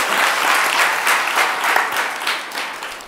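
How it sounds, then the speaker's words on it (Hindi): An audience in a lecture hall bursts into sustained applause, dense and steady clapping that swells and then gradually thins out over a few seconds. "बजाओ बजाओ ताली बजाओ"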